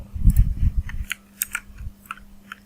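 Someone types on a computer keyboard while working on web programming in a browser: a quick burst of close, crisp key clicks followed by a few sparser taps over a low steady hum.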